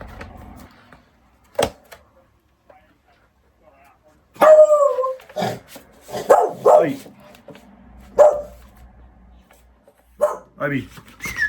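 A pet dog barks in loud, sharp bursts with some whimpering yips, scattered irregularly across the stretch, close by indoors while a person talks nearby.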